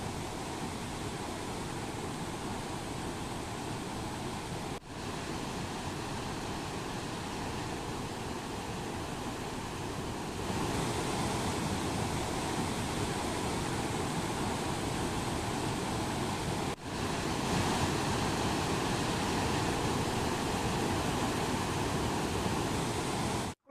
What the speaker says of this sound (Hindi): आप देख सकते हैं कि घग्गर नदी ने इस समय रौद्र रूप अपनाया हुआ है।